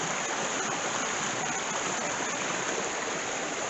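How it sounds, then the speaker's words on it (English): Steady rushing water flows continuously, a dense broadband gush as rain runoff pours off a road through culverts, close and constant throughout. "The water comes straight off the road by these specially built culverts"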